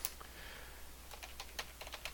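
Quick irregular keystrokes on a computer keyboard, a short burst of close clicking taps over a steady low background hum, no voices.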